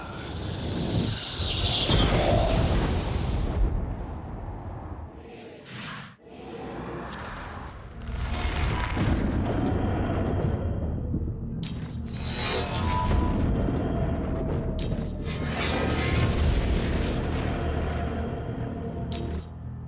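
Stygian cold fire power blasts in Saints Row: Gat Out of Hell, with loud hissing, whooshing bursts and booming rushes that come in repeated waves, cut by a brief dip into near silence.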